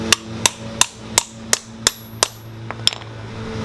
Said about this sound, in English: we just take our hammer and like a 27mm socket